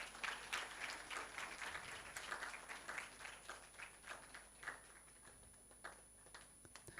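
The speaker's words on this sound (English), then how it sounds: "a big round of applause" Audience applause at a college graduation ceremony, a steady, distant round of clapping from a large hall that gradually thins out, fairly faint throughout with no talking.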